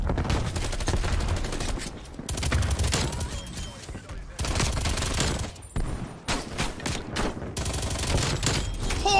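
Continuous gunfire from a first-person shooter video game, with rapid bursts and volleys that pause briefly. A player talks over the shots at times.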